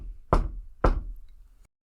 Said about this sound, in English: Well, Rin stands at the door and Daisuke just knocks on the side.